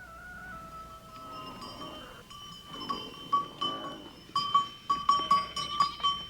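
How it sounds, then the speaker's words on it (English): Goats in the stony pastures of a Himalayan Sherpa village near Everest bleat in a series of short, wavering calls that grow louder and more frequent, with faint clinking of bells behind them. "yaks and goats are sent to stony pastures"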